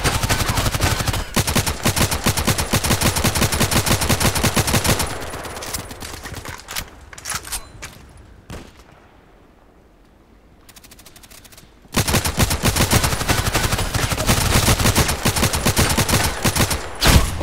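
Rapid bursts of gunfire from the video game Contract Wars, loud and dense, drop away into a quieter stretch with a few isolated shots, then erupt again into sustained firing; no voices.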